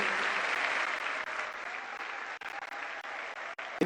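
Sustained audience ovation at a ceremony welcoming Congo's head of state Félix Tshisekedi, a dense, steady wash of many hands clapping at full strength throughout.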